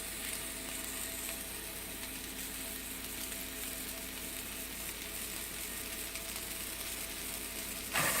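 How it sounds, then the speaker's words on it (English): A meatball for loco moco sears in a hot pan, giving a faint, continuous sizzle with a few light clicks and scrapes as it cooks, and no talking. "I'm gonna throw it in the hot pan, which is searing right now"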